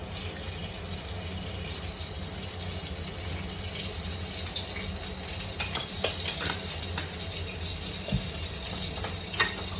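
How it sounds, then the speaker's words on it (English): Masala sizzles in ghee in a pan, a steady close crackling fry with occasional sharp spatters and the clink of stirring. "Now I'll fry the masala."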